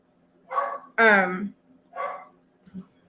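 A dog barks a few times at close range, three separate barks spaced about half a second to a second apart, the middle one loudest and most drawn out, against a quiet indoor background.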